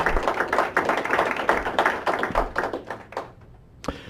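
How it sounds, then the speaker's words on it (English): Audience applause for sponsors at a venture funding event, many hands clapping briskly in a room, fading out near the end before one last sharp clap. "I'd like to give a round of applause for our sponsors"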